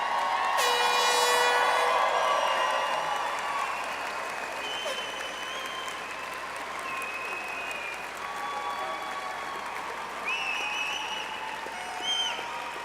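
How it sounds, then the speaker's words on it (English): Commencement audience applauding and cheering newly graduated engineering students at a West Virginia University ceremony, a long sustained roar of clapping and whoops that peaks early and then settles into steady, fairly distant applause. "let's applaud the graduates, but also the wonderful support system that is all the way around this room"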